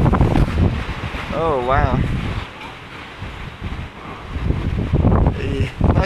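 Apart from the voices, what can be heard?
strong typhoon wind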